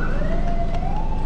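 Ambulance siren wailing loudly on a city street, its rising pitch sweeping steadily, close and dominant with no talk over it.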